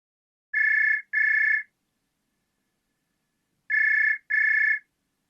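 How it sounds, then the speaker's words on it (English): A telephone rings in two pairs of electronic double trills, each burst about half a second long, with a silent pause of about two seconds between the pairs, clear and close with no talking. "Answer the phone now."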